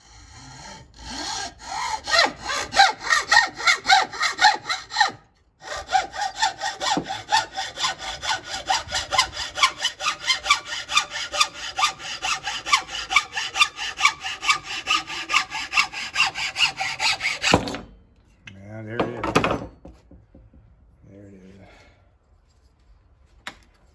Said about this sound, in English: Move that out of the way, grab my hacksaw.